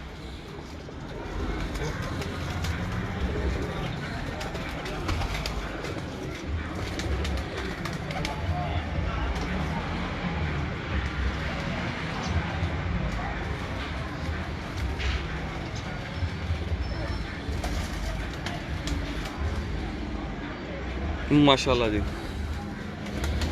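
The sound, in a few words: pigeons cooing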